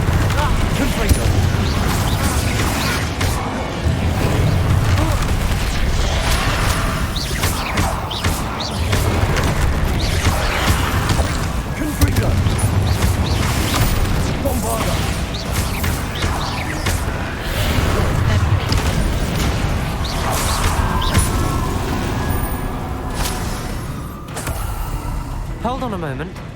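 Repeated blasts and crashing impacts of the Confringo fire spell in the video game Hogwarts Legacy, dense and loud, with booming bursts recurring every few seconds over continuous battle noise.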